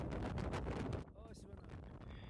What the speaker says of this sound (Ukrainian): дме знову той самий шалений вітер